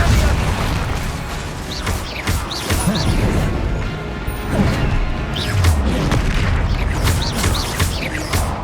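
Confringo and Bombarda spell blasts in Hogwarts Legacy fighting a troll, a dense run of loud bursts, crashes and whooshing impacts over continuous battle noise, with no talk.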